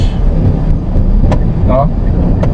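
A car engine hums steadily as the car is driven and shifted through the gears on a service road. The calm, low drone stays close and constant, with a few faint clicks and brief tones over it.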